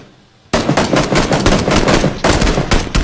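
Rapid gunfire from a video game shooter erupts after a brief quiet start and keeps going in loud, dense automatic bursts, with a short gap before the firing resumes.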